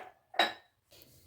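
Chaat ingredients, including salt and chaat masala, are mixed in a bowl, giving a few quiet clinks and scrapes of a metal spoon against the dish with short gaps between them.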